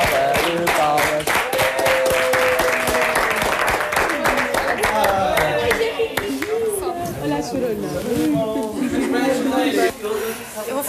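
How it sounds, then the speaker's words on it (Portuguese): Applause and cheering break out for a birthday surprise during a televised gala show. The sound is loud and dense, with voices talking and calling out over it throughout. "salva de palmas."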